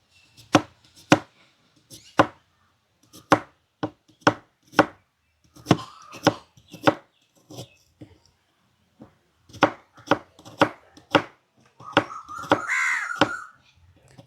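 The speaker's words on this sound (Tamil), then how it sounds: "இப்போ நாங்கள் வெங்காயத்தை வெட்டுவோம். வெங்காயத்தை வந்து சின்ன சின்னனா தான் வெட்டணும்." A knife chops onions finely on a board for biryani preparation, giving sharp, close, irregular taps in short bursts, with a crow cawing in the background near the end.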